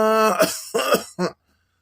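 A cartoon girl coughs three times in quick succession, loud and close, each cough shorter than the last, in a Marathi comedy animation.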